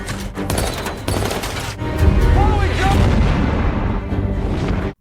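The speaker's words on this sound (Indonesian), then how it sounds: "sebuah tembakan mengarah pada Sersan Eddie dan inilah yang terjadi" Loud gunfire and booming blasts from a war film battle against Taliban fighters, dense and sustained through most of the stretch before cutting off abruptly, with a voice mixed in.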